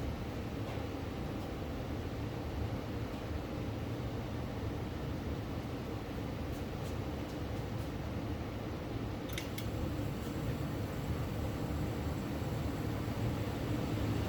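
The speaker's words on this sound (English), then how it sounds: "now the blower is faster, gas is stronger, and the inducer motor is faster" A Trane TUD080R9V3K4 gas furnace runs with its blower and inducer motor going at once, a steady broadband whoosh and hum that holds at the same level throughout, with a few faint clicks toward the middle.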